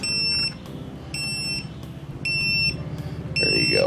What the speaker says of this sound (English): this thing lets you know. It beeps